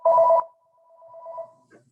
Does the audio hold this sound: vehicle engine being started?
no